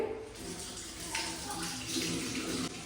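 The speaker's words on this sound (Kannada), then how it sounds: "ಮೆನ್ಸ್ಟ್ರಲ್ ಕಪ್ಸ್ ಹಾಕಿ ಫಸ್ಟ್ ವಾಶ್ ಮಾಡ್ಕೊಳ್ಳಿ" Running water while menstrual cups are washed, a steady broadband wash with brief splashy bursts, fairly close and continuous, with no talk.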